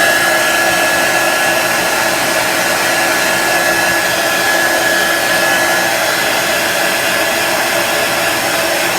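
Close, loud and steady, a handheld hair dryer runs over wet paint on a decorated pillow cover, its airy roar and faint high whine holding even throughout without any talking.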